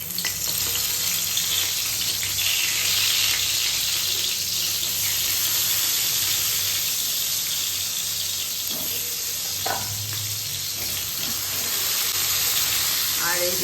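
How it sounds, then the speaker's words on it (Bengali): Eggplant slices rubbed with salt and turmeric fry in oil in a home kitchen, a steady, loud sizzle lasting throughout, with occasional clinks and scraping of a utensil and faint background voices. "বেগুন কেটে নুন হলুদ মাখিয়ে রেখেছিলাম, এখন বেগুন ভাজবো।"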